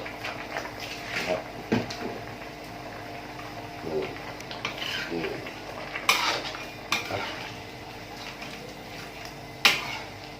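Metal spatula scraping and clanking in a pan as crispy fried snakehead fish is tossed with onion, chili and fish sauce, irregular clatters and scrapes close by, with a light sizzle underneath.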